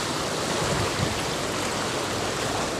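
A strong stream current rushes in a dense, steady wash of water noise, close and constant with no pauses or voices.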